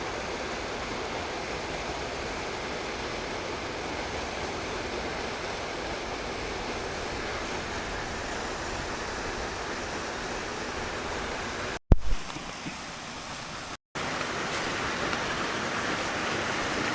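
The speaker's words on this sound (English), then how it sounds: "Oh wow, it's a beautiful waterfall." A waterfall in a forest roars with a steady, dense rush of falling water that stays loud and continuous, broken only by a brief dip near the end.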